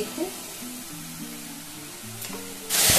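Ground spice paste with turmeric, salt and a little sugar fries in a pan with a soft continuous sizzle, a low tonal hum in the background and a louder burst of hiss at the very end.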